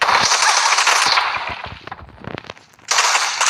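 Rapid bursts of Groza automatic rifle fire in a video game, loud and close, with a brief quieter gap of scattered shots before the firing resumes.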